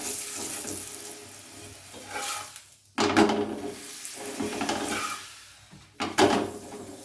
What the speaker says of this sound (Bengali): এইভাবে এক এক করে সব পরোটাগুলো ভেজে তুলব।